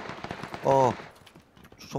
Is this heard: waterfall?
no